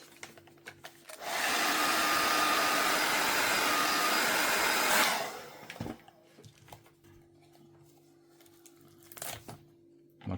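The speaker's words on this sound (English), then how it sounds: "get the hairdryer and heat up the frame" A hairdryer heating a frame roars on, blowing steadily and loudly for a few seconds before switching off, leaving faint handling noises and quiet background.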